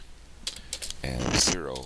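Quick bursts of clicking keystrokes on a computer keyboard, close and distinct, while entering parameter values into business software, followed by a voice speaking over the end of the typing.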